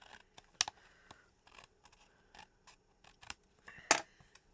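Scissors trim the edge of a craft card in a quiet room, giving a series of sharp, close snips in an irregular rhythm with short pauses between cuts.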